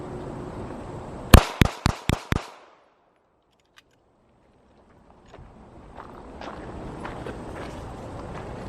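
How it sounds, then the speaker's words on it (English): A handgun fires five sharp, loud rhythm-fire shots at a 5-yard range, evenly spaced in about a second, then a stretch of near silence before faint background noise returns. "Let's do 5 rhythm fire shots on each gun and let's see what those groups look like."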